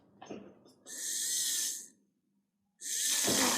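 A small DC submersible water pump from a school electronics project runs without lifting water, giving two bursts of loud, hissing, gurgling noise separated by a short silence.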